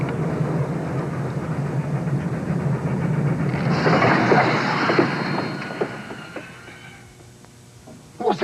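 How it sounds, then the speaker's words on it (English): The Venice Simplon Orient Express luxury train rolls along the rails with a steady rumbling rhythm and faint clickety-clack, swelling louder midway then fading, alone without speech. "The Venice Simplon Orient Express, naturally the most luxurious train in the world"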